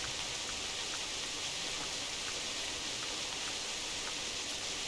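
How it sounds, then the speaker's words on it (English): Steady hiss of rainfall in the hunting game theHunter Classic, a continuous soft wash of drops over the landscape, faint and unbroken with no voices. "because the rain has made everything grey"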